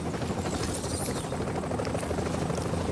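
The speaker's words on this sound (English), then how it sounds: "we're putting the chopper down" Helicopter setting down in The Division video game, a steady close rotor thrum and turbine buzz filling the whole stretch without pause.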